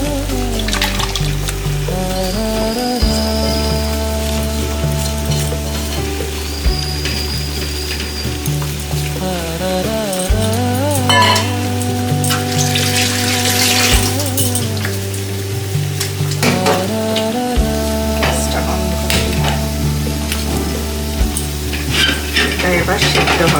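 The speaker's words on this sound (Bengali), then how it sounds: "এবার আমি এটাকে সুন্দর করে কড়াইতে ঢেলে দেবো।" Prawn mixture is poured into a wok and simmers, a steady sizzle and bubbling with spoon scraping and utensil clinks, close and loud, with a low background hum.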